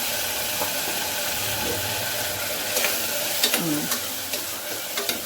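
Green chillies and tomato frying in a pan for okra pulusu curry, a steady close sizzle and hiss throughout, with spoon scrapes and clinks growing more frequent toward the end.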